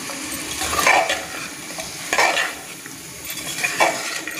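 Turmeric, sambar masala, salt and two souring agents being stirred and roasted in a pot for sambar, with soft scraping strokes recurring in a few bursts over a low steady sizzle, no talk.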